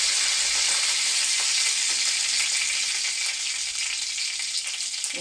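Curry leaves, cardamom and whole garam masala sizzle in hot oil for a semolina pulao, a loud, steady crackling fry close up with faint ticks of spattering and no voices.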